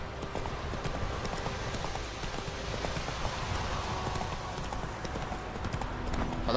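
Horse hooves clip-clop at a steady, rapid pace in The Witcher 3 video game, a continuous galloping rhythm close by over ambient game noise.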